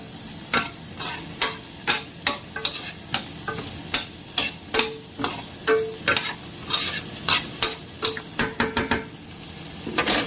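Garlic and onion sautéing in a pan for chicken adobo, with a close, soft sizzle under a quick, rhythmic series of spatula scrapes and taps against the pan, and no voices.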